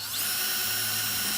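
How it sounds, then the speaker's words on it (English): Power drill boring drainage holes into the bottom of a plastic radish-growing container, a steady loud whine held throughout without pause or talk. "I'm just going to flip this over here, and I'm just going to drill a bunch"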